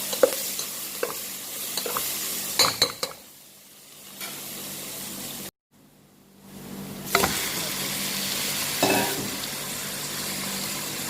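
Garlic and ginger fry in a pan, a loud close sizzle with scraping stir strokes, a brief quiet gap midway, then the sizzling resumes strongly without any talk.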